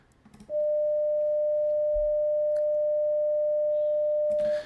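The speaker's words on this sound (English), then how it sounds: "Let's start at about 600 kilohertz. 600 hertz, sorry." A pure 600 hertz sine test tone plays from a headphone or speaker, starting abruptly after a brief moment of quiet and holding perfectly steady and loud for about four seconds before cutting off.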